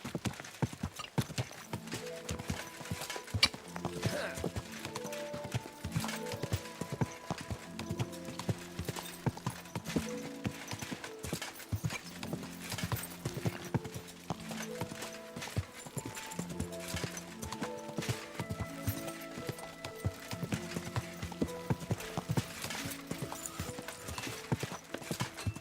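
Steady clip-clop of horse hooves in Kingdom Come: Deliverance II, a continuous trotting rhythm throughout, fairly quiet, with occasional snorts and a whinny over game music.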